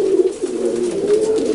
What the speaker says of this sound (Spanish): Esta paloma es muy buena.